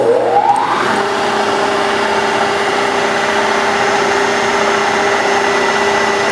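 A 3-flute 1/4 inch high-feed end mill at about 1800 RPM cutting aluminum, a loud steady machine whine with a sustained tone after a rising spin-up, continuous and close.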